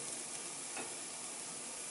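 St. Louis style spare ribs fresh from the broiler sizzle and crackle softly and continuously, a faint close hiss of hot fat with no talking.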